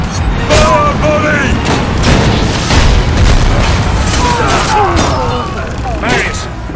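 Archers loosing a volley in the game Ryse: Son of Rome, with loud booming impacts and bursts over a continuous battle din, and shouted voices rising and falling throughout.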